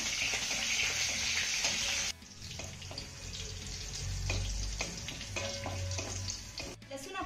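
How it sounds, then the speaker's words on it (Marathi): Crushed garlic and curry leaves fry in hot oil in a pan, a steady bright sizzle that drops back after a couple of seconds as stirring clatters and scrapes through the rest. "आता हा घातलेला लसूण ना हलक्या सोनेरी रंगावरती आपल्याला परतून घ्यायचा आहे."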